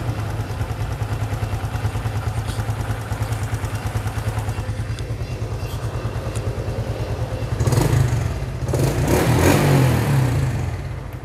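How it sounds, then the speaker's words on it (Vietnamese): A Honda Supra X motorcycle imported from Indonesia idles in a shop with a steady, even engine putter, then revs up briefly near the end with a louder clattering roar; no talking. "Các bạn nghe tiếng máy nè."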